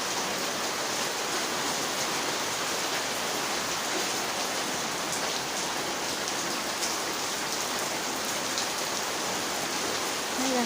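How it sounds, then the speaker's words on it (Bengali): Heavy rain pours steadily onto a house and its veranda, a dense, loud, unbroken hiss of water hitting surfaces close by, with no voices over it. "প্রচণ্ড বৃষ্টি হচ্ছে।"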